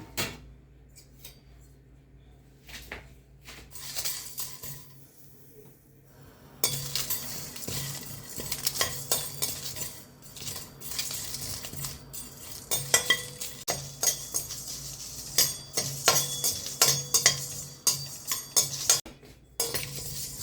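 Cumin, pepper and dried chili dry-roasting in a pan for rasam, with a utensil stirring and clinking against the metal. It is quiet at first, then becomes a busy run of close scraping and rattling.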